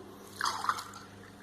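A small splash of water is poured into a bowl of flour, sugar and salt while making Egyptian feteer meshaltet dough, a brief soft trickle and drip up close, with no talk.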